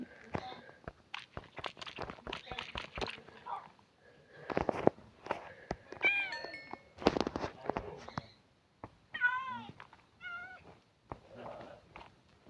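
Cats meow repeatedly in a video game, with short tonal calls among clicks and footstep-like sounds while people talk over the game audio.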